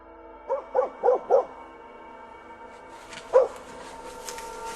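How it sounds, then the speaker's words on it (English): Dog outdoors in woods barking at a moose, four quick close barks in a row, then a pause and one more bark. "a dog nearby the man filming starts barking"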